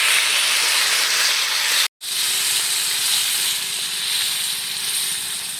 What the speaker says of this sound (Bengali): এবারে আমি জল দিয়ে দিচ্ছি পরিমাণ মতো।